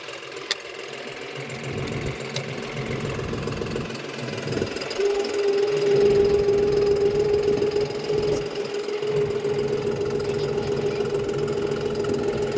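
A John Deere 5405 4x4 CRD tractor runs steadily while turning in four-wheel drive with the brake lock released, a loud continuous diesel drone with a faint tonal whine rising partway through and no talk.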